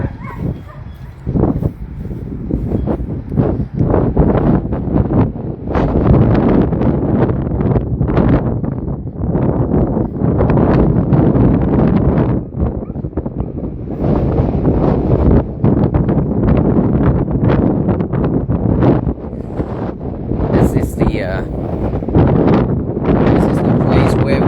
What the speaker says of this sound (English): And these days are very windy.